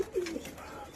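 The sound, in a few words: pigeons cooing in their coop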